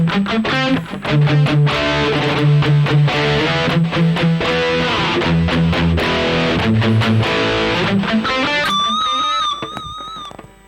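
Loud, saturated electric guitar playing a riff through the distortion stage of a Rocktron Prophesy, with sustained crunchy chords and a ringing note that fades at the end.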